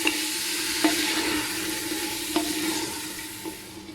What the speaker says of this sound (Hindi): और साथ ही दही। और इसे भून लूँगी।